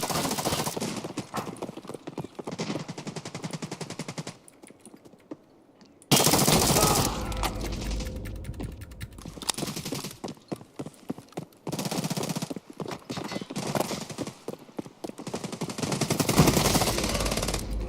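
Rapid bursts of gunfire in an online shooter game match, repeated volleys separated by short gaps and a brief lull, loud and close throughout with no talk over them.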